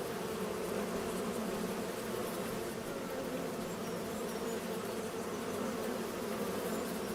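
Steady, dense buzzing of a swarm of bees at the hives in the farming video game Farming Simulator 25, a continuous even drone with no pauses or talk.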